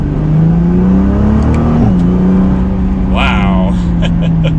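A 2020 Nissan GT-R 50th Anniversary pulls hard in second gear in race mode, its engine note climbing steadily and loud from inside the cabin, with a brief shift-like dip midway and a voice speaking over it.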